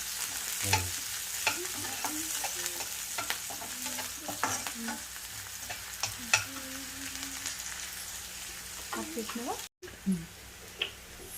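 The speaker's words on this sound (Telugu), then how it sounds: "ఉల్లికాడలండి, ఇది కొంచెం బాగా ఫ్రై కావాలి" Spring onions fry in a pan for cabbage manchurian, giving a close, continuous sizzle broken by repeated scraping stirs and clinks, with someone talking over it.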